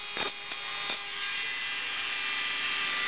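A Dremel rotary tool runs on a homemade lockpick, giving a steady high-pitched electric whine that holds even throughout, with a few brief clicks or touches near the start.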